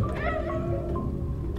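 A cat meows in the video game Stray, a short plaintive call near and clear over a low steady game ambience, with no talking.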